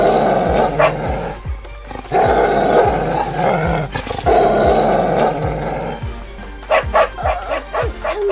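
A cartoon dog barks and growls in an animated folk-tale scene, with repeated sharp barks broken by snarling growls, loud and close, in irregular bursts over several seconds.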